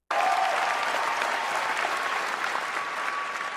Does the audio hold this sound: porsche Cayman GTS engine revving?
no